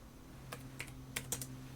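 Computer keyboard keys tapped in a few quick, separate clicks while modeling a part in DesignSpark Mechanical, close and fairly quiet over a steady low hum.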